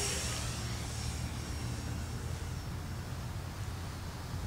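An E-flite Air Tractor 4S RC airplane flying, its electric motor giving a steady whining drone with broad wind-like noise that stays constant and fairly distant throughout.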